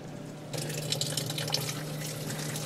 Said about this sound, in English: Oh yeah, much more water coming out, as you can see.